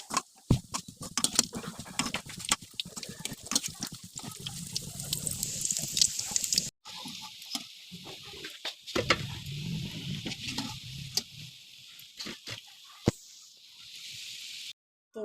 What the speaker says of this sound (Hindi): अब जा रहे हैं इनको हम फ्राई करने।